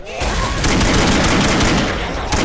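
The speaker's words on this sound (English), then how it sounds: "no attention to the explosion that just happened" An explosion goes off in the co-op zombie shooter Left 4 Dead 2, a loud, sustained rumbling blast mixed with rapid gunfire and no talking.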